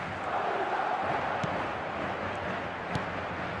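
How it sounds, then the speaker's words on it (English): Crowd noise fills the stadium at a Barcelona vs Real Madrid match in eFootball, a dense, steady roar of many voices with no pauses. "expectations are rising and decibel levels are rising. The noise is quite something."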